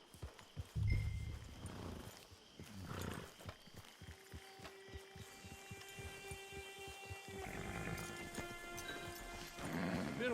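A horse in the Red Dead Online video game clip-clops with a run of quick hoofbeats and snorts near a frontier camp and hitching post. Quiet speech and faint game ambience sit alongside it at a low overall level.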